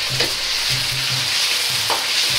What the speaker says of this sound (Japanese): 油で揚げることでサクッとした状態に仕上がることができます